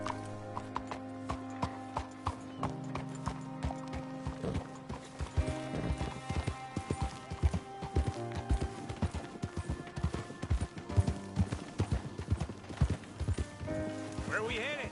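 Horse hooves clip-clopping in a steady walking rhythm alongside a musical soundtrack with tonal chords, an occasional whinny, and faint ambience, in the video game Red Dead Redemption 2.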